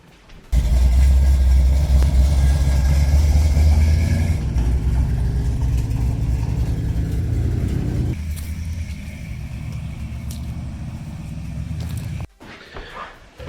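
A burnout truck engine runs close and loud, a heavy low rumble that drops in level partway through, steadies, then cuts off near the end.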